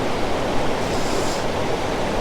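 A creek waterfall rushes in a dense, steady roar, close and unbroken, with no voices over it.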